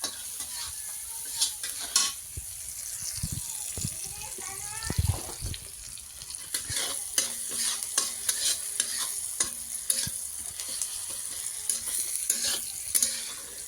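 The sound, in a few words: stirring poha in a pan on the stove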